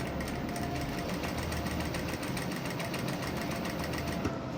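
A sewing machine stitching a ladies' collar runs in a steady, rapid mechanical chatter throughout, close and continuous with no pauses.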